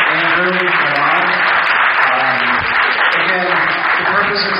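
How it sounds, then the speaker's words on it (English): An audience claps for a crowdfunding innovation panel, dense continuous applause filling the room at close range, with voices faintly underneath. "A round of applause for Kyle, Ben, Andrew, and Aman"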